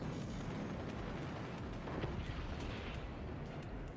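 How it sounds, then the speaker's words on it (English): Cannon fire in the physics-based RTS game Forts during a tournament match: a dense, continuous rumble of battle noise with scattered sharp bursts and booms, ending in a sudden loud hit. "Double cannon shot again."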